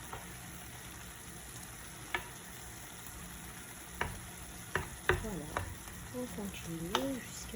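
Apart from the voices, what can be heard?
stirring veal and onions frying in a pan for tajine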